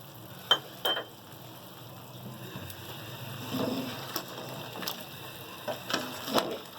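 Tomatoes and chillies for a beef karahi are stirred in a pot, giving a soft, low frying hiss broken by a few sharp spoon clinks and scraping bursts, fairly faint and without talk.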